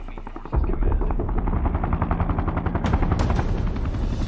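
A military helicopter in a war film, its rotor thudding loud and steady after a sudden start, with sharp bursts of gunfire cracking over the rotor noise near the end.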